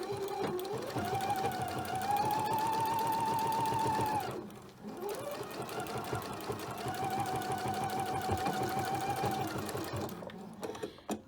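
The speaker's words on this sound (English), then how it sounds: "stitch on three sides of this so you don't sew your pocket closed" A sewing machine runs in long steady bursts while stitching a fabric pocket onto a hip purse. The whirring is close and loud, with a brief pause in the middle before the stitching resumes.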